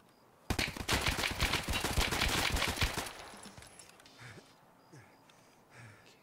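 Gunfire in the video game Escape from Tarkov during a hardcore season raid in the Woods map, a loud sustained burst of rapid automatic shots lasting about two and a half seconds, then quieter distant ambience.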